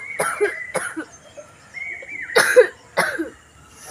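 A person coughs in cold weather: several short, harsh coughs in quick bursts, heard up close, with brief quiet gaps between them.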